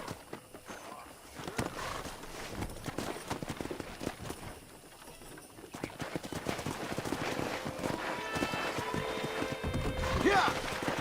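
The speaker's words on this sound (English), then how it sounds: "That ranch hand said there's a pack of wild horses nearby." Wild horses run and neigh in the Red Dead Redemption video game, with hooves clopping across open ground and a whinny near the end, mixed with game sounds.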